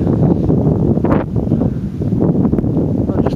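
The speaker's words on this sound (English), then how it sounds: "You have to forgive the wind. Unfortunately, it's a bit windy." Wind buffets an outdoor microphone at the site of a former RAF airfield, a steady loud low rumble that continues throughout with brief gusty surges.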